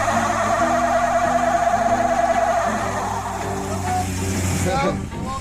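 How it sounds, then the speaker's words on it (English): Stripped-down Jeep with no roof revving hard in a burnout attempt, its steady loud engine drone with rising whine and tire noise near the end, close and continuous. "We're gonna try to do a burnout."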